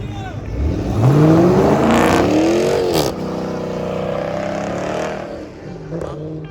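A muscle car, one of the Hellcats and Scat Packs at a street car meet, revving hard during a burnout, its engine climbing in pitch and holding a loud, sustained roar with voices talking over it.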